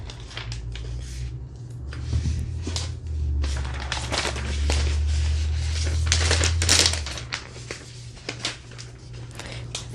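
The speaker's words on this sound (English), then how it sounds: "so now let's unwrap the laptop" Packaging being unwrapped from a Microsoft Surface Book 3 13.5-inch laptop: close, loud crinkling, tearing and rustling in dense bursts over a low rumble, swelling in the middle before tapering into scattered taps.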